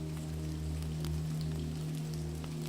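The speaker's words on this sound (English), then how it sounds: "The sounds of the rain and fire create the perfect ambiance to lull you into a sense of peace and contentment." Steady rain patters over a low crackling fire in a calm indoor ambience, soft scattered ticks and pops riding above a continuous warm hum, with no voices.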